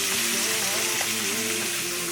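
Steak-umm cheesesteak meat fries in a pan with a steady, soft sizzle that continues evenly throughout at a moderate distance.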